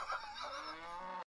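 A cartoon cow moos in the Windows 3.1 game Gus Goes to the Kooky Carnival, one drawn-out, tonal moo lasting about a second before cutting off abruptly into silence.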